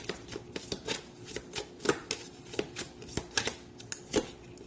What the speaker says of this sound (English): Let's go ahead and crown this lovely reading with some fortune cards.